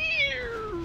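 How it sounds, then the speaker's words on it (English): A house cat gives a single clear meow, close and fairly quiet, with a falling pitch over under a second. "That's the cat."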